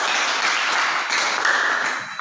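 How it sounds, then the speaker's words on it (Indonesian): Classmates clap for a presentation group in a school classroom, a dense, steady wash of applause lasting the whole moment with no voices over it. "Oke, aplaus untuk kelompok"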